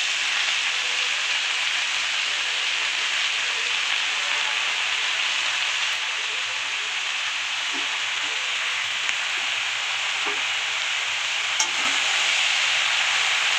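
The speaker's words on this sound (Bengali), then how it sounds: "সবজিগুলোকে কষে নিতে হবে।" Vegetables stir-fry in a pan, giving a steady, bright hiss of sizzling oil with occasional soft scrapes and stirring clicks, close and continuous throughout.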